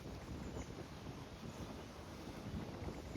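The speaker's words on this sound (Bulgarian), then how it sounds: "Но е доста ветровито." Wind buffets a microphone on a hilltop overlooking the town of Monmouth, a steady low rumbling roar that stays fairly faint throughout, with no talk.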